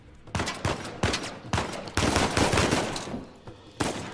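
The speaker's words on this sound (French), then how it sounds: "je me prends une balle, je meurs" Gunfire in the video game Uncharted 4, repeated loud shots and bursts of automatic fire at irregular intervals, close and dense with echoing tails.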